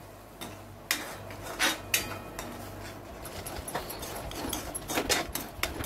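Scraping and clattering of a spatula stirring a ground spice paste with a little water in a pan, with a soft continuous sizzle underneath and intermittent sharper metallic clicks.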